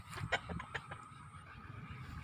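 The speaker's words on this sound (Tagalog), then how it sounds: "yung mga breeder nating mga manok guys." Breeder chickens kept on a raised roost give a few short, faint clucks in the first second, then fade into a quiet yard hum.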